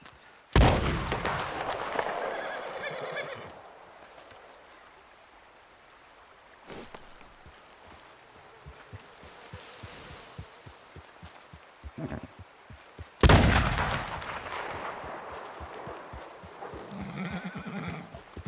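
In a Red Dead Redemption 2 game scene, a horse gives loud whinnies near the start and again later, with steady clip-clopping hooves between and beneath them. The sound stays close and full.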